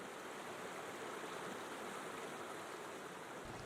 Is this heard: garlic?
no